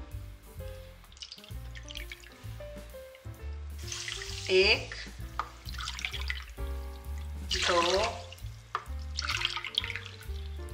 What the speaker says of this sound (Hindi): अब इसमें ऐड करेंगे हम पानी।